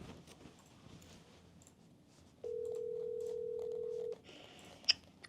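A phone call goes out over a business line, with a long steady ring tone near the middle, faint tone blips before it, and a short sharp beep near the end.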